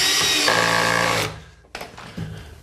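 A power drill whirs at high speed for just over a second, driving a screw into the timber of a wooden chicken coop, then winds down, followed by a couple of brief knocks and handling sounds close by.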